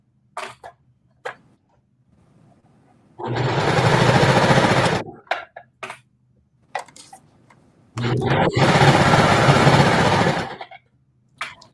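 A sewing machine stitches the side seam of a dress in two long, loud, steady runs close by, separated by a pause with brief handling clicks.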